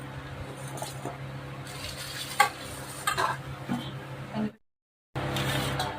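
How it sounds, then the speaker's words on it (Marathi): Salt and asafoetida are stirred together for a pickle, giving soft scraping and stirring with a few light clinks. A short gap of silence comes near the end, and then the stirring carries on. "आता आपल्याला हे पूर्ण साहित्य असं एकत्र करून घ्यायचं"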